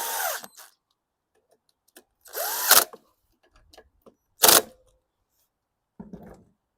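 A DeWalt cordless drill with an 8mm socket runs in a few short, close bursts with quiet gaps between them while working on a 2013 Snapper 725EX lawn mower.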